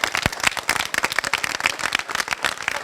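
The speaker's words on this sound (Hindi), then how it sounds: "इसके लिए सारे बच्चे तालियां बजा के" A group of schoolchildren claps together in dense, rapid, uneven applause, loud and close, continuing steadily for a few seconds.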